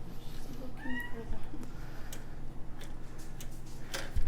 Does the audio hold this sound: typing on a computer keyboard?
no